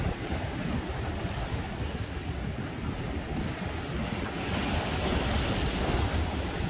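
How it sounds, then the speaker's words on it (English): Rough sea surges against the shore at Old Jaffa in Tel Aviv, a continuous loud roar of breaking surf mixed with gusty wind buffeting the microphone, with no voices. "Oh, look at the rough sea"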